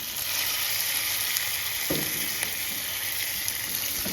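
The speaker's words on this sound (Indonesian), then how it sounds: "Kita aduk, masak sebentar ya, supaya bumbunya tercampur." Curly chilies sizzle steadily as they are stir-fried in cooked spice paste for an Indonesian home-style dish, a constant close frying hiss with a brief scrape of stirring partway through and no talking.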